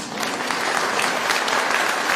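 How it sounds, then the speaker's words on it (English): A crowd gathered for the First Lady in Ohio's capital breaks into applause after her remark, a thick, continuous roar of many hands clapping, loud and sustained throughout. "You may applaud on that."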